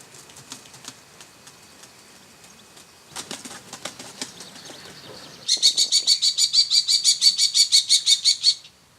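Young common kestrels calling and flapping wings: soft scattered chirps and wingbeats at first, then a burst of activity, ending in a loud, rapid series of sharp repeated calls close by.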